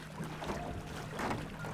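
A rowboat is rowed on open water with soft splashing oar strokes and watery swishes, two stronger pulls rising and fading over a breezy background, close to the microphone.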